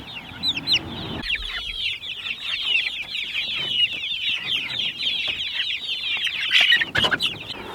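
Several chickens cluck and chatter nearby, a busy overlapping stream of short calls with a brief flurry of louder squawks toward the end.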